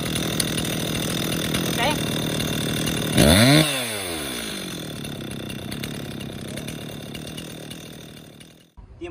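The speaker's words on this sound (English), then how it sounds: "let me show you with this chainsaw" A Dewalt DCPS620B 20V lithium cordless pole chainsaw with an 8-inch bar sits running with a steady whine, then ramps up in a brief, loud rising burst before spinning down smoothly; a person speaks briefly.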